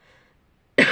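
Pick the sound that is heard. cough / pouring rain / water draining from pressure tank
cough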